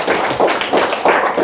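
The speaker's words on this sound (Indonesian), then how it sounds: "Tepuk tangan untuk kita semua." A class of primary schoolchildren claps together in a classroom, a short burst of bright, rhythmic clapping in a few pulses with no talk over it.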